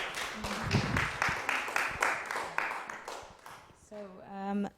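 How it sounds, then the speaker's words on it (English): Applause at a Codarts conservatory concert after a performer named Elaine, a dense run of clapping with talk over it, fading out before a brief tonal voice at the close. "big round of applause for Elaine"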